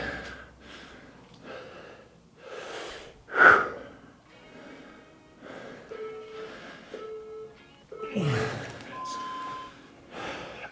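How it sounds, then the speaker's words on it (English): Heavy breathing during a dumbbell-only leg workout: a series of loud gasps, snorts and sighing exhales close to the mic, with a few faint beeps in the background. "So all the heavy breathing and sighing tends to be along for the ride."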